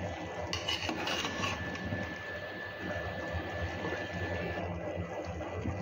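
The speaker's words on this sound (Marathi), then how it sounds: "15 मिनिटानंतर मी हे थोडेसे हलवून घेणार आहे, मिक्स करून घेणार आहे" Chicken pulao being stirred gently in a pot, a steady soft scraping and rubbing of rice against metal running throughout, close and continuous with no talk.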